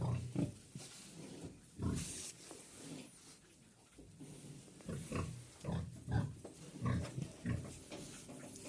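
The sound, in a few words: pig, a sow resting in a cage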